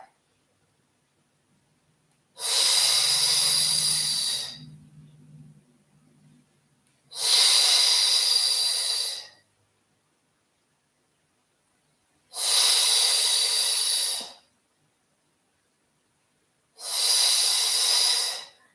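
Four long, forceful breaths, hissing and rhythmic, are separated by quiet pauses during a whole-body Pilates exercise, each lasting about two seconds and close. A faint low murmur sits under the first breath.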